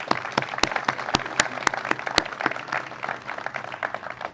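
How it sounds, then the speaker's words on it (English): Audience applause at a sheriff's office hangar dedication ceremony, steady scattered clapping from a moderately sized crowd, a little distant and fairly soft, with no talk over it. "A round of applause for them."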